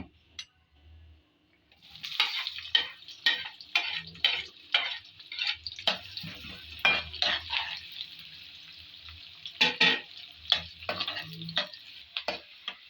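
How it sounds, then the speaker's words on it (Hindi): Onions sizzle and crackle in hot oil for a stuffed bitter gourd and minced meat dish, with steady frying noise broken by repeated stirring scrapes and clicks, close and fairly loud, with no talking. "अब इसी ऑयल के अंदर हम प्याज डालेंगे।"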